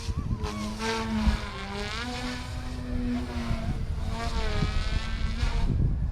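An RC helicopter, an OMP M1 or Align T-15, flies at high head speed with a close, steady, buzzing motor whine whose pitch rises and falls as it manoeuvres, heard alone with no talking.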